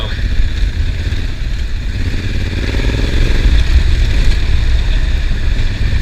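A Honda Africa Twin motorcycle rides on Mount Hood, its engine giving a steady, loud, close drone mixed with strong wind rumble, and the pitch rises slightly midway.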